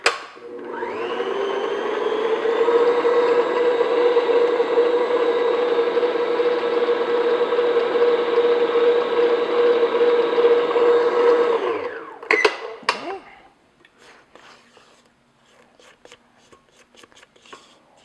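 Electric stand mixer beating smooth peanut butter into classic peanut butter cookie dough, a loud steady motor whir lasting about eleven seconds before stopping, followed by a few clatters and faint quiet handling.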